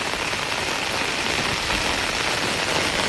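Rain falling in a Thai forest, a dense, steady hiss of drops pattering on leaves and ground, uniform and close, with no other sounds.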